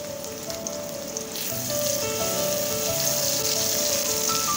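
Onion, garlic, green chili and a bay leaf sizzle in a little hot oil, a steady dense crackling hiss that swells louder partway through as the pan heats up, with no talking.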